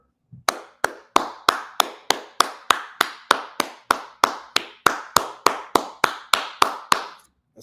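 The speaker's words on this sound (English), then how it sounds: "Let's clap it up." One person clapping hands alone, about twenty sharp, evenly timed claps at a brisk steady pace, close and clear against silence.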